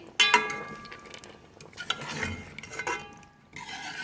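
Chicken gizzards are stir-fried in oil in a pan. A utensil scrapes and clinks against the metal in uneven strokes, sharp near clanks stand over a faint sizzle, and there is a brief quiet gap.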